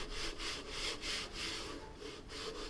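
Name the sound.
hand sanding a foam windsurf board blank with fine-grit block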